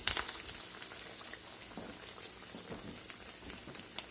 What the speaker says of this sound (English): We'll let that fry about a minute and a half, and then we'll turn it.